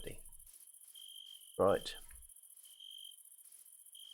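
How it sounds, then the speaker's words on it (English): Steady nighttime cricket chirping from the Minecraft game world, a continuous high trill running through the whole stretch, with a brief spoken word cutting in near the middle. "Oh, and you hear the crickets?"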